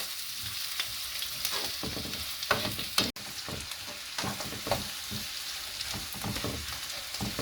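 Onions sauté with salt in a pan, giving a continuous sizzle broken by irregular scraping and stirring clatters from a spoon, heard up close with no talking.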